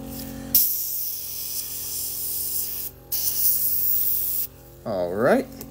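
Airbrush spraying paint with the compressor set to 40 PSI, a steady loud hiss in two long bursts separated by a short pause, with a brief whistling tone near the end.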